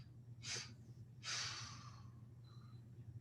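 Two audible exhalations during a breathing exercise, a short puff followed by a longer breath out, close and soft over a low steady hum.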